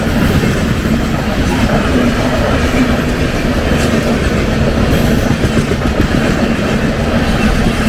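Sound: train passing on railway

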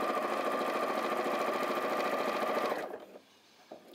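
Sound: sewing machine quilting with a walking foot

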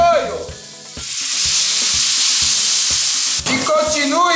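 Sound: soy sauce added to sizzling chicken stir-fry

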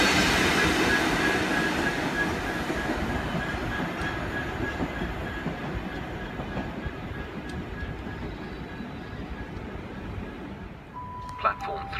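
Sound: train braking at Ealing Broadway station, UK

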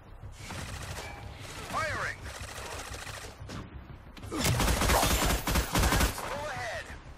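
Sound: gunfire from ships in the Battleship video game

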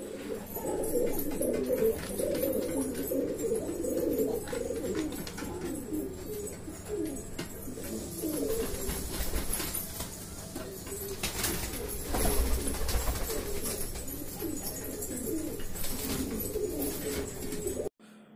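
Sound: pigeons cooing

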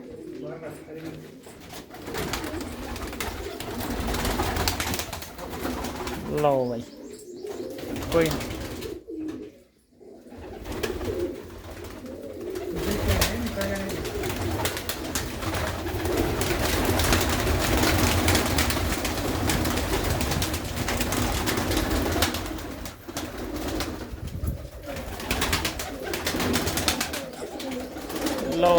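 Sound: Teddy pigeons cooing

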